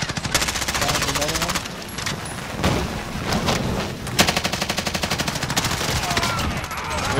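Gunfire in an online squad shooter game: loud sustained automatic bursts, rapid rhythmic rounds broken by brief pauses and a heavier shot, with players talking over the action.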